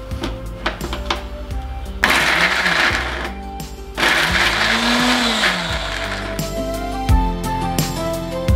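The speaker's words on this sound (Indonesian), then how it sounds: "kemudian kita blender." An electric blender grinds shallots, chilies and spices with a little oil in short loud bursts, its motor pitch rising and falling, separated by pauses and clatter.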